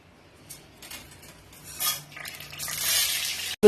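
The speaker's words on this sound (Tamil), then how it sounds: "சோ இப்ப பாத்தீங்கன்னா கடுகு உளுத்த பருப்பும் போடுறேன்." Mustard seeds and urad dal drop into hot oil in a pan for tomato santhagai. A soft clatter is followed by rising, close sizzling and crackling that grows louder toward the end, with no talking.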